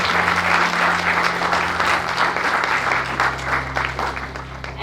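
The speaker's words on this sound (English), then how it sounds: "So please give them applause and enjoy the film for the fruit of the labor" A theatrical premiere audience for a film about Iceland applauds, producing a continuous wash of clapping that stays full and even, with a low hum underneath and a slight easing toward the end.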